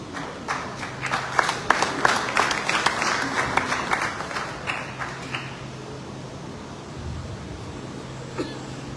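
An audience applauds at a Lifetime Achievement Award ceremony honouring President Julius Maada Bio, with dense clapping that swells in the first few seconds and then thins to scattered claps and crowd murmur.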